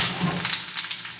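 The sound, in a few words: food searing in a pan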